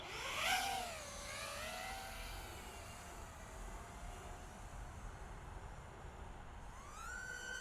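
HDZero Crux35 FPV drone with motors spinning up for takeoff from a 3D-printed launch dock, rising whine with climbing pitch that settles into a steady buzzing drone, fairly close and continuous with no talk.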